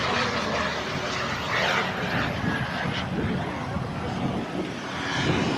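A radio-controlled model jet flies nearby at an RC flying event, its engine a steady, loud broadband roar with a faint high whine that swells slightly as it passes, continuous throughout with no talk.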